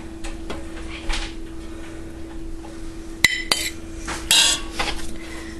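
Egg noodles being served onto a plate in a home kitchen, with utensils scraping and clinking against a dish and a few sharper metallic clinks near the middle, close and moderately loud, no talking.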